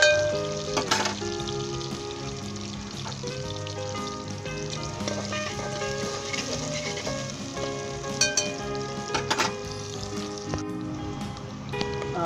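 Garlic and onion fry in a pan over high heat with a dense, steady sizzle and crackle throughout, punctuated by occasional brighter spatters and faint stirring scrapes, close and continuous without any talking.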